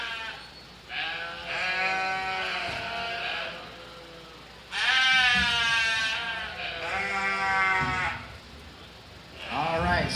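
Sheep bleat repeatedly at a county fair sheep and goat show during senior showmanship, several loud wavering calls close by, overlapping at times, with a faint announcer voice in the background.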